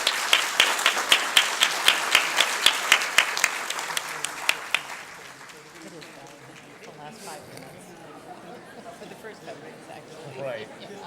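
Enthusiastic audience applause at a county council candidates forum, dense, rapid clapping for about five seconds, then fading into murmuring crowd chatter and shuffling.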